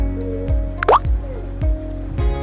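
A phone's click sound from the Innovex sound scheme repeats as four soft, evenly spaced drip-like plops with a brief higher chirp between them, close and clear with no speech.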